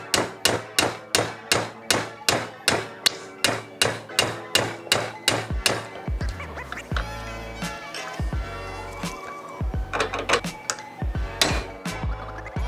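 Roll pin hammered into an aluminum AR-15 trigger guard: a rapid, close series of sharp metallic taps, about fifteen evenly spaced strikes, followed by scattered heavier knocks and handling clatter.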